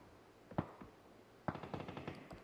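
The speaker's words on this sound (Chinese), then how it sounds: "现在 New Happy 的高点是全力开火" Gunfire from a PUBG esports match at PCL 2022 Summer: a sharp shot, then a cluster of rapid bursts mixed with fainter distant cracks over a low game-ambience bed.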